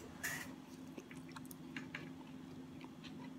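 Quiet close-up chewing of chuuka noodles from a bento lunch, a few soft wet bites and mouth sounds over a low background hum.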